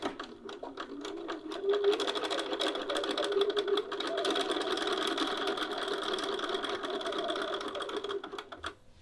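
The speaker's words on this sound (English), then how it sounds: "Continue sewing." A sewing machine stitches the neckline of a garment with a fast, continuous mechanical whirring and ticking. It runs steadily for several seconds, close and clear, with no talk.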